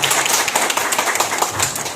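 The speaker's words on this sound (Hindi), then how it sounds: "एक जोरदार तालियों से हमारे सीएमओ साहब का स्वागत किया जाए" An audience at a revival gathering in Imphal, Manipur claps steadily and loudly to welcome a guest, a brisk, dense patter of hands with no voices over it.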